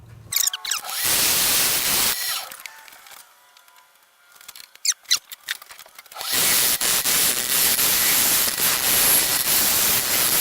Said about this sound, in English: Parting tool.